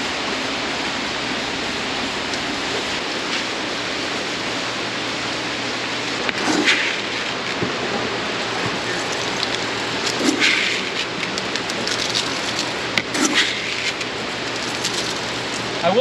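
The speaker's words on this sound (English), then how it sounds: "It is pouring." Heavy rain pours down outside a farm greenhouse, a dense, steady roar of drops hammering the roof and surfaces, with a few sharper splashes and knocks rising above the wash.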